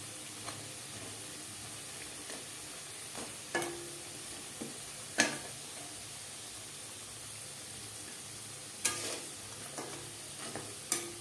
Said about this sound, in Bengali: উল্টে পাল্টে বেসনের বড়া বা পাকোড়া কিস্তি করে ভেজে নেব